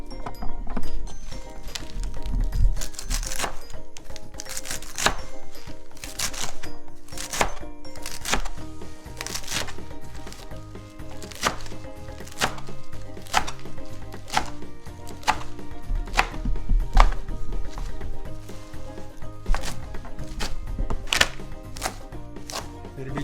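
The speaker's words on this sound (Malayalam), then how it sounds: "അപ്പോൾ നമുക്ക് ഈ ലെറ്റസും എല്ലാം സാലഡിനുള്ള സാധനങ്ങളെല്ലാം അങ്ങ് അരിയാം ആ സമയത്ത്." A knife chops lettuce and other salad vegetables on a cutting board, crisp evenly spaced strikes repeating in a steady rhythm, close and clear with no voices over them.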